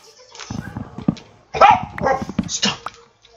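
A dog barks repeatedly in loud, close bursts, mixed with a person's raised voice talking over it.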